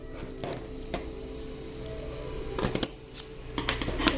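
Scissors cutting paper for a handmade greeting card, a few soft snips and crisp rustles close by, growing busier toward the end, with no talking.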